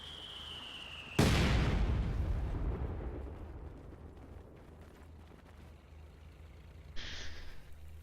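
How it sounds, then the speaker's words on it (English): Artillery fire in a strategy video game: one loud, sharp explosion with a long rumbling decay, followed by quieter battle ambience and a smaller burst near the end. "Incendiary artillery also does not connect particularly well."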